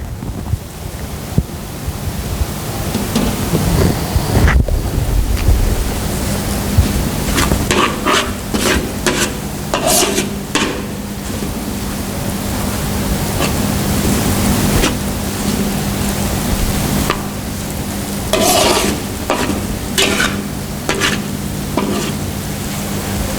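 Pad Thai stir-fried in a pan with stock cooking down, a steady loud sizzle with repeated scraping and clattering strokes of a utensil against the pan.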